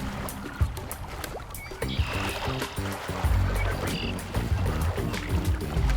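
Large long-legged cranes with red head patches splash and bathe in water after a long flight, the wet splashing and sloshing continuing steadily and growing fuller and louder toward the end.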